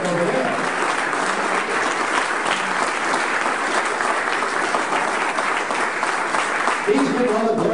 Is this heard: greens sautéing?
no